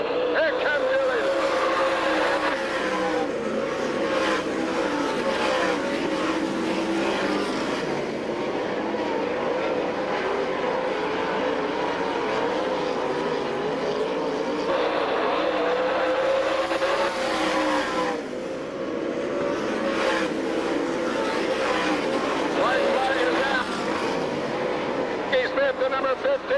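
All Stars and NCRA sprint cars race to the checkered flag at Tulsa, Oklahoma, with loud, sustained engine roar rising and falling as the pack passes, under a commentator's voice.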